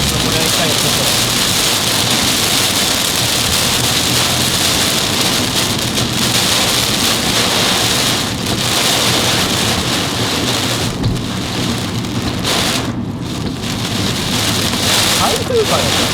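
Sudden torrential downpour, heavy rain drumming steadily and loudly on surfaces in a dense continuous roar that fills the scene throughout, with no pauses.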